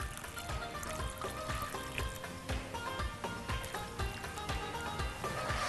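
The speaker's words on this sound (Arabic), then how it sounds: "دول كده كوبايتين، وهزود كوبايه ميه كمان." Water poured from a cup into a cooking pot of chicken with orzo, a steady close splashing trickle running for several seconds with light clinks over it.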